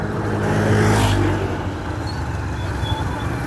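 Road traffic on an under-construction road in Taytay, Bayawan City, with a vehicle rumbling close by and passing, then fading to a steady, moderately loud traffic wash with no talk.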